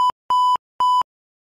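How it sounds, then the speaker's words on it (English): An Alpha Arsenal Polus Aqua GSM water sensor gives three short, clean electronic beeps in quick succession, then falls silent. "Wait until the LED turns green, and you hear three short beeps."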